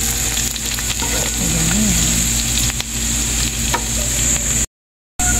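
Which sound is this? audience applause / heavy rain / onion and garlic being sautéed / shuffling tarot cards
onion and garlic being sautéed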